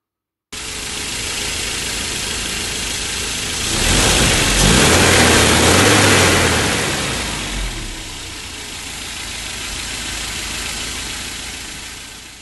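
A 1992 Mercedes 190E 2.0 with KE-Jetronic injection running steadily, then revved once to a louder swell before settling back to idle, close and alone without talk.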